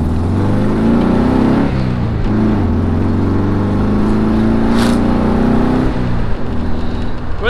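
A 1967 Volkswagen bus drives along with its engine droning loudly and steadily, the pitch rising and dipping as gears engage and shift, with no one talking.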